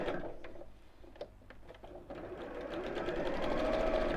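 A sewing machine stitches a drawstring PJ bag, starting with short stop-start bursts of needle clatter, then settling into a faster continuous whir close by.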